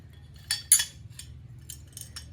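Glass wind chimes give a few soft, scattered high clinks, two brighter taps followed by fainter tinkles, against a low steady hum.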